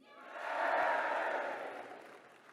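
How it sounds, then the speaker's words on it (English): An audience at a live forum event in Westminster cheers loudly. The crowd noise swells quickly, holds for about a second and then fades away, with no clear speech over it. "Give me a big cheer if you've heard of me."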